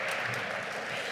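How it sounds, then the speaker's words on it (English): Audience applause at the 2015 Community Gathering for Excellence, a steady, dense wash of clapping filling a brief moment without a break. "let's give a big round of applause to all that have worked on this event"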